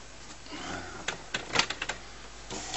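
An HP PSC 1510 printer feeds paper through with a series of mechanical clicks and whirring bursts, fairly quiet and close, clustered in the middle before a brief motor whir returns.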